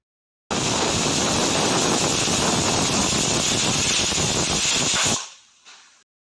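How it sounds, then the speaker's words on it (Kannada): A loud, steady hiss of steam blasts from a pressure cooker cooking mutton curry for several seconds, then cuts off abruptly with a faint trailing puff. "ಮುಚ್ಚಳನ ಮುಚ್ಚಿಬಿಟ್ಟು 6ರಿಂದ 7 ವಿಸಿಲ್ ಕೂಗಿಸ್ಕೊಳ್ಳಿ"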